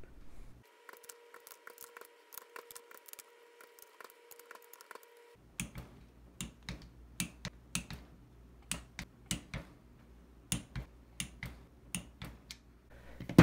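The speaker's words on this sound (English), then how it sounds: "Now I'll be doing the final round of torquing at 175 inch-pounds" Sharp, regular clicks of a torque wrench tightening rocker box bolts to 175 inch-pounds on a Shovelhead cylinder head, a steady run of close, crisp snaps with no talk.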